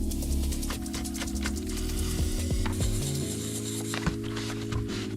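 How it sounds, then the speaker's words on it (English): A ratchet-style torque wrench clicks and ratchets steadily as it tightens the wheel lug nuts on a 2015–2020 Ford F-150 back on the ground after a brake service, close and fairly quiet, with no talking. "it's good practice to torque up the lugs to spec"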